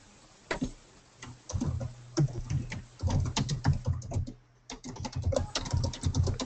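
Typing on a computer keyboard during an online coaching session: irregular bursts of close, crisp key clicks with brief pauses in between, alone without talk.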